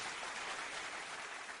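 Applause sound effect on a radio talk show, a brief burst of continuous dense clapping, fairly faint and steady throughout.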